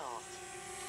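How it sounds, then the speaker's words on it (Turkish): DJI Spark drone propellers spinning up for takeoff, a steady high whirring buzz with a sweeping tone at the start, close and continuous under a person talking. "sesi duydunuz. Drone kalktı."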